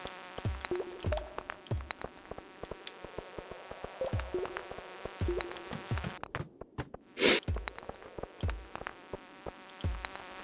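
Flies buzz in short, repeated bursts in the Stardew Valley mines over a quiet background, with one brief louder crackle midway.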